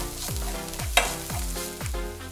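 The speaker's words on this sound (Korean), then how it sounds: "칼칼한 고춧가루 4스푼 넣고 1분 정도 볶아서" Chili flakes stir-fried in scallion and garlic oil, a constant sizzle with rhythmic scraping strokes of a spatula and one sharp clink, close and alone.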